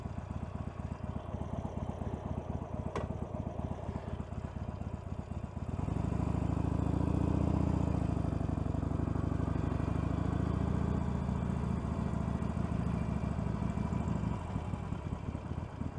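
A Harley-Davidson Iron 883 motorcycle idles nearby, its engine ticking over slowly with a deep, steady low rumble that swells in partway through and runs to the end.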